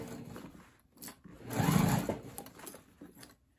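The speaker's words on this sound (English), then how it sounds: "sewing across the bottom" A domestic sewing machine stitches across the bottom of a crossbody bag in one steady run that swells and then eases off. It is close and fairly quiet, with no talk over it.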